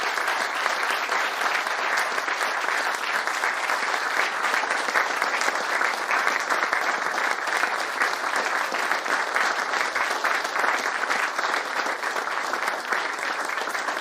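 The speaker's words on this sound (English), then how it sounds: "A warm round of applause for our three presidents." Loud, sustained applause from a large conference audience, a continuous dense wash of clapping that holds steady for the whole stretch without any voices.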